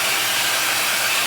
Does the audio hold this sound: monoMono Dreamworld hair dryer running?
yes